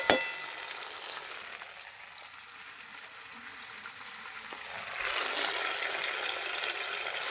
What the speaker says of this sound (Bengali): তেলের মধ্যে পেঁয়াজ দিয়ে দিয়েছি যে ঝিঙের ছোকলাটা আমি দিয়ে দিলাম